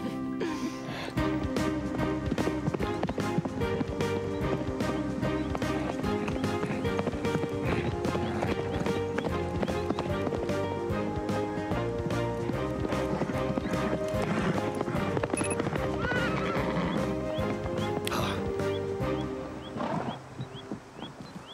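A horse gallops with rhythmic clip-clop hoofbeats and an occasional neigh at a riding stable where horses are warmed up and trained for a race, all set within a dense, continuous layer of music-like sound.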